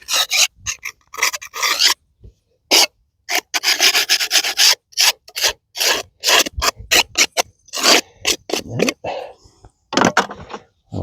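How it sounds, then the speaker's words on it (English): Soapy, moistened cemetery headstone at Mt. Pleasant Cemetery, Port Byron, New York, scraped on a warm day, giving close, repeated rasping strokes in short irregular bursts with brief pauses between them. "So we're just going to give it a scraping."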